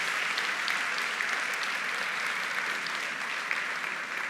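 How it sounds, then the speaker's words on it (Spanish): Steady, dense applause from a church audience welcoming a youth group, a continuous wash of many hands clapping at even loudness throughout with no talk over it. "Denles un aplauso fuerte."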